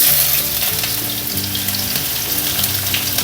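Garlic and onion frying in a pan, a loud, bright, continuous sizzle heard up close, with a few low knocks from the pan underneath.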